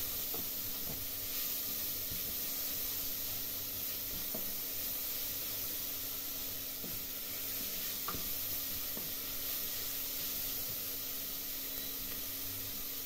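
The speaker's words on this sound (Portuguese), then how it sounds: "Refogado o tempero" Seasoning for okra and ground beef sautés in a pan, a steady broadband sizzle running throughout with occasional soft stirring scrapes, close and even, no voices.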